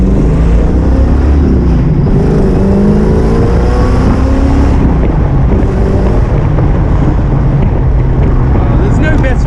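An AK427 Cobra replica, an open-top, front-engined, rear-wheel-drive car with a V8, drones loudly while driving, with heavy wind rushing past throughout and voices talking over the engine noise.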